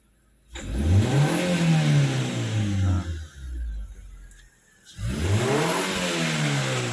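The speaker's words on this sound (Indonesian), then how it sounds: "sekarang kita dengarkan suara mesin setelah selesai tune up" A Hyundai Avega engine revs up after a tune-up with a rising roar, holds high, dips briefly, then revs hard again, loud and close with no talking.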